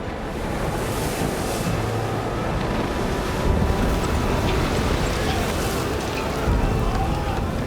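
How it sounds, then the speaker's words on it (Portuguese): Stormy sea waves and heavy wind batter a ship, a dense, steady roar of surf and gusts with occasional surges and no clear pauses. "O navio foi arrastado pela tempestade, sem poder resistir ao vento."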